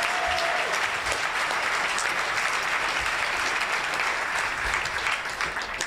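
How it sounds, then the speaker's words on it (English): Sustained applause from a socialism conference audience, dense, even clapping that holds steady throughout, close and full with no voices on top. "please give yourselves a round of applause"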